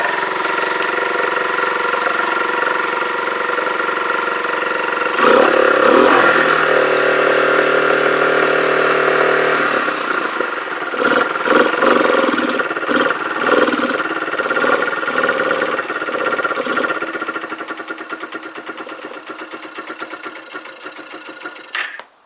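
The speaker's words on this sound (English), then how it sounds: "let's get this warmed up and see if she'll idle" A Kawasaki BN125 Eliminator motorcycle engine runs as it warms up, a loud steady mid-pitched idle with a brief revving surge partway through, then settles into an uneven, slightly faltering tickover.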